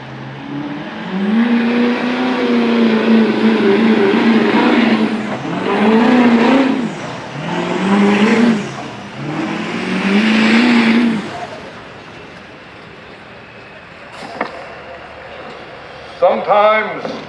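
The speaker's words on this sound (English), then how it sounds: "here comes a good-looking Chevy. Duramax Diesel." Chevy Duramax diesel pickup truck at a truck pull, engine roaring loudly and surging in several long revving pulls, with an announcer talking over it and crowd noise as it fades.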